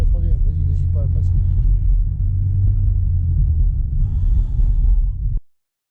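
A car engine rumbles steadily after a shift into third gear during a driving lesson, a loud low drone from inside the cabin with a voice briefly over the start, before the sound cuts off abruptly.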